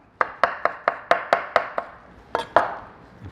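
A knife chops radish on a cutting board in a home kitchen, with about a dozen crisp, evenly spaced knocks close by. The chopping is heard alone.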